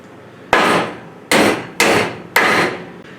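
A DeWalt 15-ounce hammer strikes four loud, sharp blows at uneven intervals, each hit ringing briefly before fading, with no voices.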